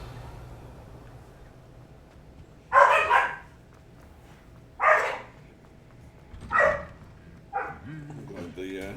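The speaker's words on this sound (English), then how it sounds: "I'm glad the dogs are super chill at 2 in the morning." Dogs bark in a video game at night, four separate loud barks spaced a couple of seconds apart, the last trailing into a whine, over a quiet ambient background with a voice nearby.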